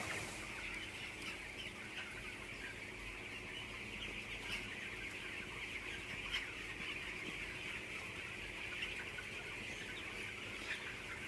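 Chickens cluck and murmur in a large automated barn, a faint, dense, continuous flock chatter with occasional sharper squawks standing out over a steady background hum.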